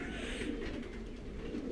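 Pigeons coo in a loft, low soft cooing murmurs blending into a dense, continuous flock hum with occasional rustling, close and steady throughout.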